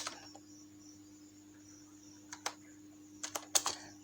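A few light, scattered key taps on a computer keyboard as a word is typed, sparse at first then a quick cluster near the end, quiet and close over a faint steady electrical hum.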